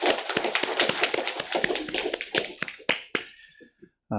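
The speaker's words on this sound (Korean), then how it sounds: "우리 하나님께 감사와 영광의 박수를 올려드리겠습니다" Church congregation clapping together during a Sunday worship service in Uijeongbu, dense overlapping claps that thin out near the end, with some voices mixed in.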